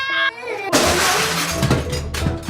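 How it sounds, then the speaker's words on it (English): Window glass smashes loudly at once, a sharp crash followed by a spray of tinkling shards that fades over a couple of seconds, right after a brief tonal sound. "Are they smashing windows on a regular basis?"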